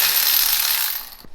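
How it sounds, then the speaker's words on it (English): A floor jack ratchets under a 2011 Ford Escape, a dense run of rapid metallic clicks close by that fades out near the end, with no voices. "I'm just gonna use the floor jack"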